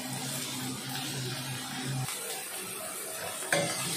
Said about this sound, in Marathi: तो पण चांगला व्यवस्थित परतून घ्यायचा आहे आपल्याला